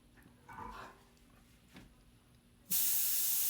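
A paint sprayer hisses out transparent colors onto a portrait, starting with a few faint bursts and then a loud, sustained close spray near the end.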